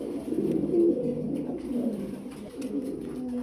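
Pigeons in a loft on a pigeon farm coo in low, throaty, overlapping rolls, a close and continuous murmur with no talking.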